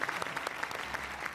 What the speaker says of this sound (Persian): من درخواست میکنم به خاطر تمام زحماتی که برای فوتبال کشورمون کشیدن اول تشویقشون بفرمایید